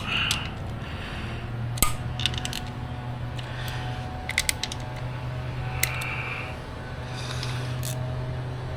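A 1/4-inch ratchet tightening bolts on a Grom motorcycle, heard as a few short, quiet bursts of mechanical clicking spaced apart over a steady low hum.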